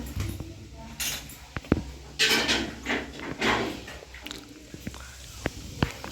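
Ingredients are worked by hand in a bowl with lukewarm water, giving soft, irregular squishing and pressing sounds, with occasional light clinks against the dish, all fairly quiet and close.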